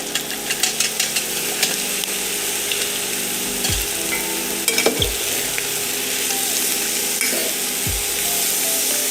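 Pasta is stir-fried in a pan with a loud, continuous sizzle up close, while utensils scrape and clatter in repeated strokes and a few knocks land against the pan.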